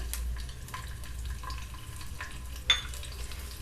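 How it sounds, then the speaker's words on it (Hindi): Finely chopped garlic frying in a spoonful of oil with cumin seeds in a frying pan, a soft continuous sizzle with faint crackles and a brief scrape near the end, quiet and close. "अच्छे से लहसुन को फ्राई करेंगे"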